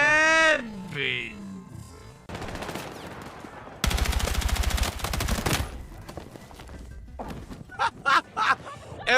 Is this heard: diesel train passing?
no